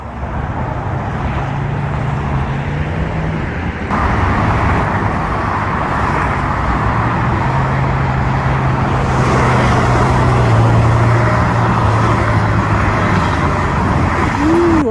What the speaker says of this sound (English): And this is the 10 freeway.